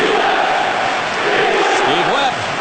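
A hockey arena crowd cheers in a steady, loud roar as Steve Webb of the Islanders takes the ice in a 2002 playoff game against the Maple Leafs, with the dense crowd noise filling the whole stretch.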